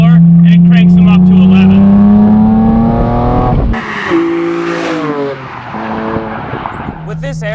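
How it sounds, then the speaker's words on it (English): A BMW S54 straight-six, as in an E46 M3 or Z4 M, breathes through an Evolve carbon airbox. Loud, close induction howls climb in pitch through the revs, then drop and rise again with a metallic, wailing edge. "that metallic howl that the S54 is known for"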